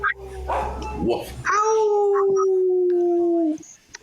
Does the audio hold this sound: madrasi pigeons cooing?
no